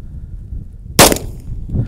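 Single gunshot at an outdoor gun range in the desert, one sharp loud crack cutting through steady wind and background rumble, trailing off in a short echoing decay.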